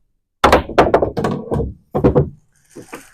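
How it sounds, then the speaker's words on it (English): A billiard cue ball struck with a jump masse shot lands, bounces and hits the 8 ball into the pocket, producing a quick series of sharp, close wooden knocks followed by softer taps. "I actually jumped the ball. It landed, it bounced, it hit that the 8 ball and shot into the pocket"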